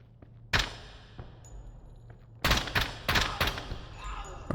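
Gunfire in a tactical shooter video game during an assault on an embassy to rescue hostages: a single sharp shot, a pause with faint background hum, then a rapid cluster of loud shots close by.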